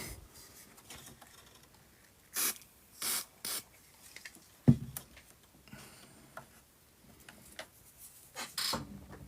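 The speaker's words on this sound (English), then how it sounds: "I'm going to try and blast it with some activator spray" Several short bursts of hissing spray, each a second or less, separated by quiet gaps and a sharp knock midway.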